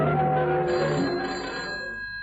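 A telephone rings with a loud, bright, tonal bell that sustains and then gradually fades.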